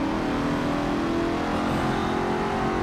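A Fox Body Mustang engine in the Forza Motorsport 7 racing game drones steadily and loudly at sustained revs from start to finish. No distinct gear-change break stands out.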